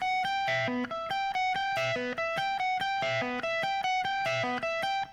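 A distorted, effected electric guitar repeats a short six-note phrase from a song's solo in a tight loop, steady and loud, with no talking over it.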